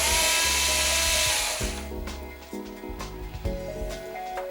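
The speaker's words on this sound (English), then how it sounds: "Just take a drill, whatever you're going to use." A drill whines near a Hitachi 55-inch LED TV stand as a screw is backed out: a loud high-pitched spin-up that drops into a lower, shifting motor tone, close by with no talk.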